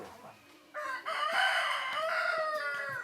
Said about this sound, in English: A chorus of roosters greets the new day.